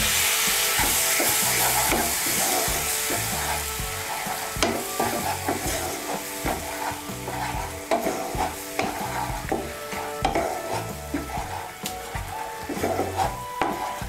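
Water hits a hot pan of fried masala made from ground roasted coriander, cumin and dried red chilli for banana-flower chops. A loud hissing sizzle eases off as a utensil scrapes and stirs in a steady rhythm.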